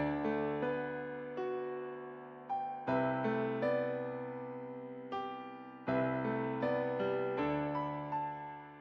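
A melodic chord progression loop in a trap vein, built in FL Studio: sustained, piano-like chords restruck every second or so with a bright melody on top, clean and alone without drums or talk.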